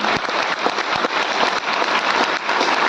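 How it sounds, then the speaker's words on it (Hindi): An audience at a health-awareness meeting breaks into loud, dense applause, many hands clapping together in a steady, close roar that holds for the whole stretch with no talk over it. "मैं चाहता हूं इस संस्था के लिए जोरदार तालियां।"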